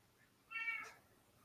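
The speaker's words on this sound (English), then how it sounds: "Is that a cat?" A cat gives a single drawn-out meow, fairly faint and somewhat distant, rising and falling over about half a second against a quiet indoor background with no voices.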